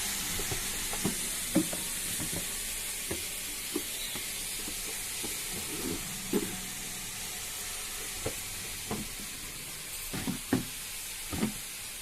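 Tamarind is stirred into cabbage roti pachadi in a pan, with scattered soft scrapes and taps of the spoon over a faint steady hiss, quiet and close with no talk.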